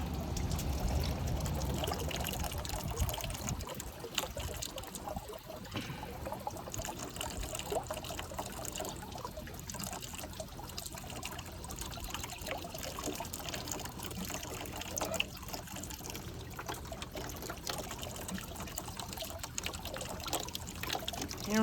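A homemade 5-gallon bucket toilet flushes with a steady rushing trickle of water that runs on for about twenty seconds, soft and continuous with no talking.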